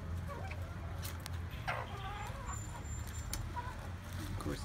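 Chickens cluck softly and intermittently over a steady low background hum, a few short calls scattered through the scene.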